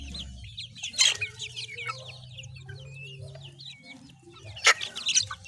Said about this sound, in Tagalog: Papakain natin sa alaga natin mga sisiw